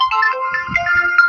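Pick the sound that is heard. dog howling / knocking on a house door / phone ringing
phone ringing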